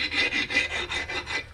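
A hand file strokes lightly along the edge of an old flea-market axe head, making about seven even, rhythmic rasps, close and clear.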